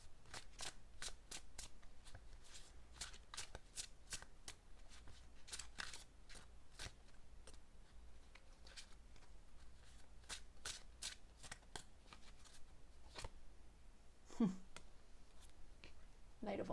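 Tarot cards being shuffled by hand in a steady run of crisp riffling flicks, close and fairly quiet, ending with a brief soft thump.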